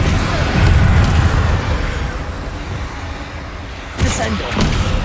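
A Confringo fire-blast spell from Hogwarts Legacy bursts in a loud, rumbling explosion that fills the mix, with a sharper second blast near the end amid ongoing game combat noise.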